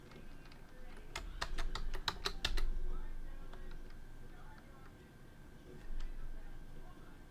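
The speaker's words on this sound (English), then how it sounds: "I am just typing test." Computer keyboard typing during a chatbot setup, a quick burst of about eight sharp clicks in rapid succession, followed by a few scattered isolated keystrokes, faint and close against a quiet room.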